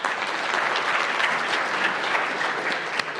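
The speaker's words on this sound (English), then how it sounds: "Give them a round of applause, everybody." Workshop audience of about 300 people giving a round of applause, loud, dense and even clapping that sustains throughout.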